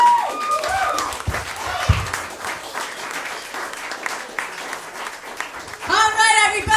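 A comedy show audience bursts into applause, a dense wash of clapping that swells and holds, with a voice speaking over it near the end.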